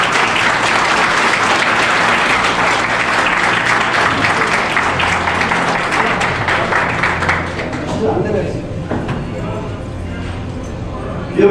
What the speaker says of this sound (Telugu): మనందరి తరఫున డాక్టర్ కృష్ణారెడ్డి గారికి జన్మదిన శుభాకాంక్షలు చప్పట్లతో